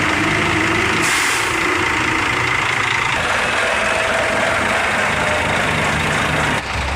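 A heavy Scania K360 bus engine runs loudly and steadily nearby, with a broad airy hiss from its air suspension rising partway through over the low mechanical rumble.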